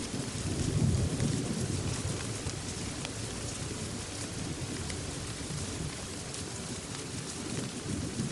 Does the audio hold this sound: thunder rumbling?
yes